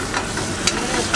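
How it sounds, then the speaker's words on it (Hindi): Pizza sauce sautés in a pan with a continuous close sizzle and soft scraping strokes of a spoon stirring at an uneven rhythm. "इसको कितनी देर ऐसा भूनना है?"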